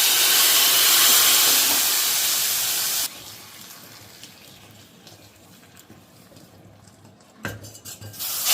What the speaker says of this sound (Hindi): यहाँ लगाया है कढ़ी में मैंने छौंका।